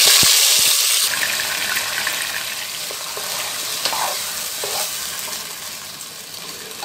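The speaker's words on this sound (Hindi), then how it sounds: "अब इसको पकाना स्टार्ट करेंगे। अब एक बर्तन रख दी मैं और इसमें 2 टेबलस्पून ऑयल डाली।" Chicken cooking in two tablespoons of oil in a pot for a green herb chicken dish sizzles steadily and close up, with stirring scrapes and light clinks through the frying hiss.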